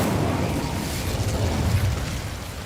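Incendio fire spell cast in Hogwarts Legacy, the video game: a sustained roaring, crackling burst of flame with rumbling low boom, loud and steady throughout with no talk.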